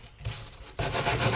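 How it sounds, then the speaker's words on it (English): Wire brush scrubbed across clogged, sticky sandpaper during van roof repair, a close, steady rasping rub that grows louder and denser partway through. "You can take a wire brush like this."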